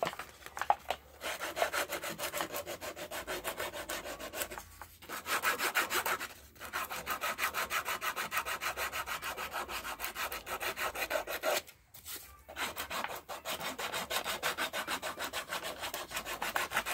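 Steady back-and-forth rasping of 100 grit sandpaper worked by hand over a wooden knife handle, close and continuous with a few brief pauses between runs of strokes.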